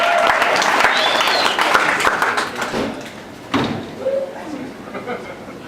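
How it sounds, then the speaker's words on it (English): Comedy club audience bursting into applause, dense and loud at first, then thinning out and fading over a few seconds with scattered claps. "give yourself a round of applause"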